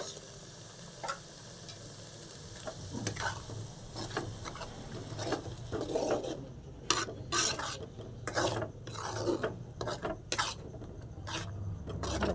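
Tomato paste is stirred and fried in oil in a pan while making an egg gravy. A steady low sizzle runs throughout, broken by repeated scraping and clacking strokes of a spoon against the pan that come faster and louder in the second half.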